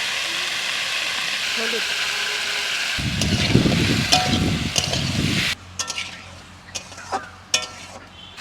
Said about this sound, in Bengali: প্রথমে সামান্য তেল দিয়ে চাপাবো, ডাটা আর আলু দিয়ে দিচ্ছি